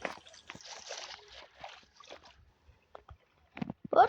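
A small boat rows across water in the Minecraft video game, giving faint sloshing and trickling splashes in short bursts with gaps between them, close and fairly quiet.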